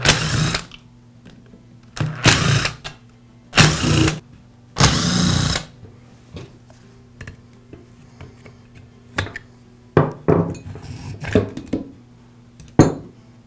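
Screws are backed out of a DeWALT angle grinder gear case with a powered driver, heard as several short, loud whirring bursts separated by pauses, then lighter clicks and small clatters of parts being handled nearby.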